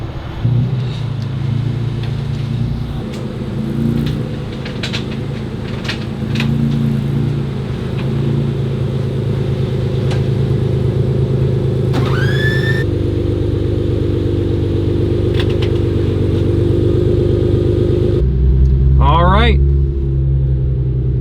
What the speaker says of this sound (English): I can hear the car.